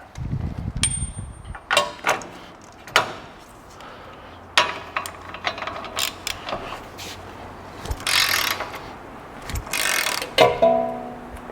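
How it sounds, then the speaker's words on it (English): Torque wrench tightening a coilover bolt on a 2025 Ford during an off-road suspension install, giving a run of sharp mechanical clicks and ratcheting knocks at irregular intervals, close and fairly loud, with no talking. "we're going to torque this down to 350"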